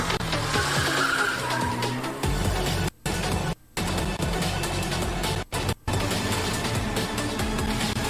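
Racing cars skidding in a video game trailer, loud tire squeals and screeching engines sliding through corners, broken by a few abrupt silent cuts, with a voice narrating faintly.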